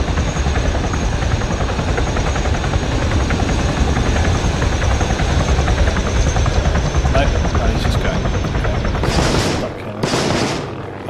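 A helicopter in the Arma 3 video game roars with a loud, continuous rotor drone. Near the end a couple of sharp bursts cut through.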